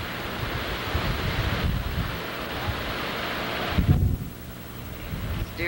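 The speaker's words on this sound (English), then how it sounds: "very windy out." Strong wind buffeting outdoors at a farm auction, a loud broadband roar with gusty surges and a heavier blast near the end, with no voices.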